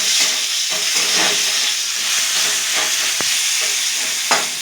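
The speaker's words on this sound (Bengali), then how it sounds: "উচ্ছেটা একটু কড়া করে ভেজে নিতে হবে।" Bitter gourd frying in oil in a pan sizzles with a steady, loud hiss, broken by a few soft clicks from stirring, with no voices.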